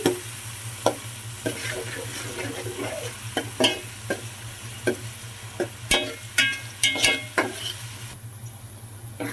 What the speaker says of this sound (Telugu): ఉల్లిపాయ పచ్చిమిర్చి ముక్కలు అయితే చక్కగా వేగిపోతున్నాయండి